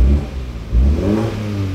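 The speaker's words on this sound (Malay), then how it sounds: "So saya try tekan minyak kalau korang dengar lah kan." A BMW 118i fitted with an aftermarket cracker and boost meter, engine revved twice in short throttle blips, a close, low rumbling rise and fall with no talk over it.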